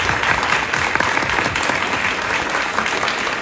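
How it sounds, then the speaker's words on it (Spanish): An audience applauds steadily after a conference talk on the high seas treaty, dense clapping close and continuous with no pauses, the crowd's hands filling the hall without any talk over it. "un aplauso"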